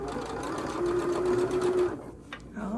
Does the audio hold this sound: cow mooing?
no